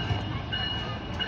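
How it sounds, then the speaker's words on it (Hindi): Green Line Express approaching behind a GEU-40 diesel locomotive, a steady, loud rumble of engine and rolling stock with a sustained tonal drone. "सामने से आती हुई 6 डॉन ग्रीन लाइन एक्सप्रेस"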